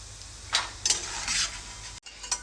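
Peanuts fry and are stirred in a pan, with a few scraping, rustling bursts of stirring over a steady low sizzle, close and clear.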